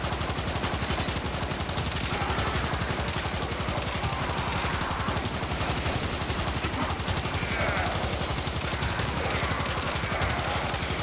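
Rapid, continuous automatic fire from the Knell Prime weapon in the game Warframe, a dense, loud stream of shots with no pauses and no talking.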